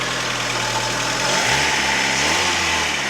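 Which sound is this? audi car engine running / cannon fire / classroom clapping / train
audi car engine running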